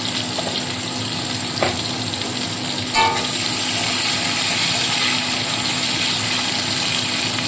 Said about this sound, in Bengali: এইবার কেটে রাখা টমেটোগুলো দিয়ে দিচ্ছি দিয়ে সামান্য লবণ দেবো